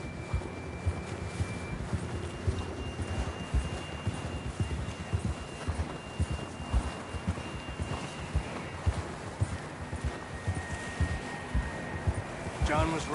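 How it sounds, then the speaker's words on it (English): Horse hooves clip-clop at a steady walking rhythm in the Red Dead Redemption 2 video game, continuous and fairly close, with quiet game music and occasional voices underneath. "John was riding that horse when we left Blackwater"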